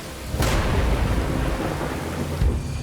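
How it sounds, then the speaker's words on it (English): Storm on an island in a video game trailer: heavy lashing rain with a loud close crack of thunder and rolling rumble, another low boom near the end. "A soothing breeze may grow into a squall, drowning the island in lashing rain. Even now, I can feel the storm coming."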